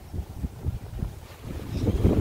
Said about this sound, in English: Another extremely windy day.